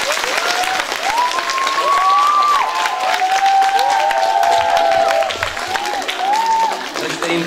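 Steady, loud applause from the audience welcoming a local children's choir, with dense clapping sustained throughout and a few whistles or vocal calls rising over the crowd.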